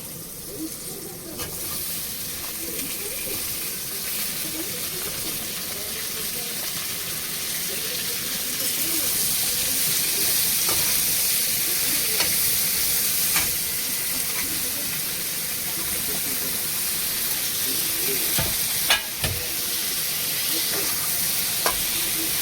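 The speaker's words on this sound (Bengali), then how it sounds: "সবজিটাকে একটু ভেজে নেব" Cauliflower stalks and other vegetables frying in oil with onion in a pan, a continuous close sizzle and hiss with occasional stirring scrapes, growing slightly louder over time.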